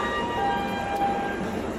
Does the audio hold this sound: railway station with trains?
yes